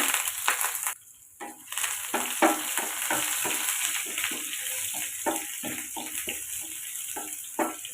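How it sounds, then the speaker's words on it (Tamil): Onion, ginger, green chilli and curry leaves frying in oil with chana dal, mustard seeds and cumin: a loud, crackling sizzle stirred with repeated spatula scrapes, briefly dropping out early on before resuming steadily. "இப்போ வெங்காயம் நல்லா வதங்கணும்."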